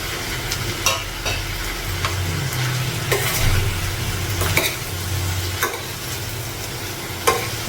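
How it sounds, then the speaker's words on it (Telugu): Boiled potato pieces and capsicum fry in a hot pan, a continuous sizzle broken by repeated sharp scrapes and knocks of a spoon stirring, fairly loud and close. "ఇప్పుడు బంగాళదుంపలు వేసుకుని ఫ్రై చేస్తాం."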